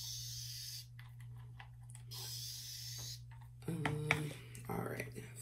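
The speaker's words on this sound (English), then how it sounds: "This spray bottle, by the way, is another Amazon find. It's one of those continuous misting sprays" A continuous misting spray bottle hisses onto hair in two long, steady bursts, each lasting about a second, followed by a voice talking close by.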